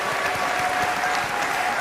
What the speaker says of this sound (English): let's put a round of applause to each and every one on this platform